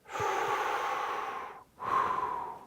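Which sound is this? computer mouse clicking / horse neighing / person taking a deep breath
person taking a deep breath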